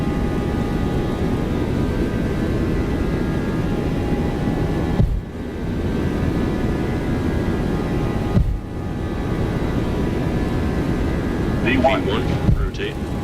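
Simulated Boeing 737-800 jet engines on a takeoff roll, a steady loud roar with a faint whine that holds constant, briefly dipping twice, while a voice speaks near the end.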